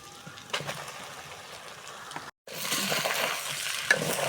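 Pasta poured into a frying pan of cooked chicken and stirred; quiet steady sizzling with soft stirring scrapes and sloshes, a brief silent gap, then louder, fuller frying as the pasta is mixed in, one sharper clink near the end.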